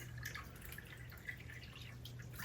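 Coolant from a 6.0 Powerstroke diesel engine overflows and drips onto a shop floor, a steady liquid trickle with a low hum underneath and no talking.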